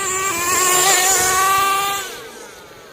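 The nitro engine of a Kyosho USA-1 Nitro V2 RC monster truck with a three-speed gearbox screams at full throttle. Its loud, high-pitched whine climbs in pitch and then drops away after about two seconds.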